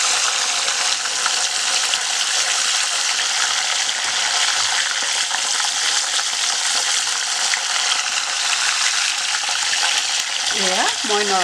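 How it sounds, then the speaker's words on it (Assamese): Curry leaves fry in hot oil, giving a dense, even, crackling sizzle that stays loud and close throughout, with a brief squeaky scrape near the end. "এয়া মই নৰসিংহ পাত ভাজিছোঁ।"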